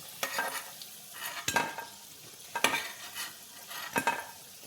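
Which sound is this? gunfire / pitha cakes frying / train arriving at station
pitha cakes frying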